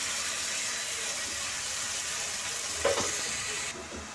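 Homemade Maggi noodles drop into tomato sauce in a pan and sizzle steadily, with a brief clatter of stirring near the end.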